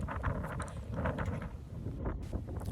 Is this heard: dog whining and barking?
no